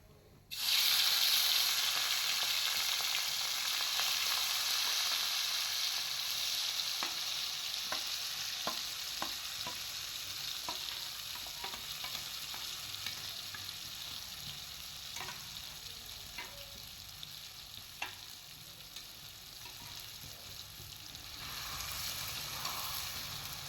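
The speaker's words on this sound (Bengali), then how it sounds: "এই মাছটা আমি এর মধ্যে দিয়ে দিচ্ছি এক এক করে।" Catla fish pieces frying in hot oil tempered with black cumin, giving a loud, steady sizzle that starts suddenly and crackles on with small pops throughout.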